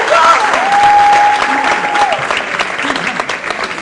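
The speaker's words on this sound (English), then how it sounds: "Round of applause really quickly" An audience applauds a performer at a convention stage event, steady clapping filling the space with a sustained tone briefly sounding over it before the clapping thins out.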